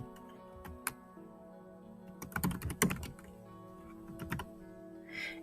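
Keys clatter on a computer keyboard, starting with a few isolated taps and then building into a fast, dense burst of typing, followed by scattered keystrokes. The typing is close, moderately quiet and alone, with no voices.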